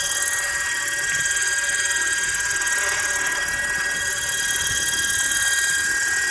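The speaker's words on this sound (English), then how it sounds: "I've got some video of a helicopter right over there" A helicopter working near a PG&E telephone pole plays back from a recording as a steady, droning whine with a high, tonal edge, continuous and fairly loud throughout.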